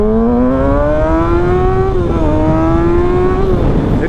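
A motorcycle with an aftermarket exhaust revs close by, its engine note rising, dipping and rising again in a loud continuous drone for about four seconds.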